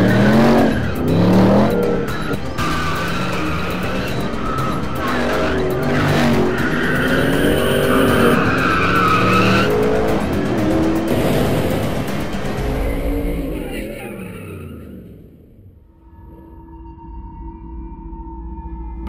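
A Spyker LM85 V8 race car drives hard, its engine droning loudly with tires squealing and skidding through most of the stretch before the sound drops away into a quieter rumble near the end.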